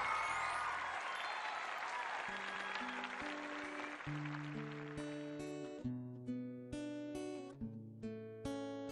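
A studio audience at a children's TV music show applauds to welcome a performing group, a loud wash of clapping that fades within a second or two as a melodic keyboard-style musical intro begins and takes over.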